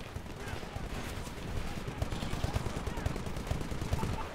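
Rapid automatic gunfire in the shooter game Titanfall rattles in quick bursts of sharp cracks, moderately loud and growing denser, with voices chattering underneath.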